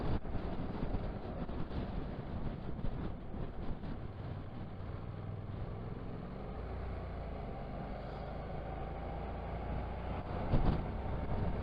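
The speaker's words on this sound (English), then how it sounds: "It's a bit windier than I thought it would be." Gusty wind buffets an outdoor microphone with a continuous, close rumbling roar, swelling slightly near the end, and no voices.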